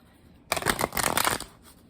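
Power animal oracle cards riffle in a single quick, close, crisp shuffle lasting about a second, with quiet before and after.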